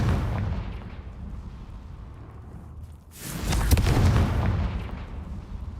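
A Confringo fire spell blasts in the Hogwarts Legacy video game: a sudden broad boom bursts in midway over a low rumbling background, then a sustained roaring wash carries on to the end.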